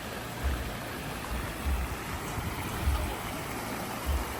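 River running through a forest near a waterfall, a steady broad rushing roar of water with faint low thumps, no talk.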